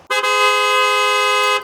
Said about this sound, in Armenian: Եվ իհարկե սիգնալ։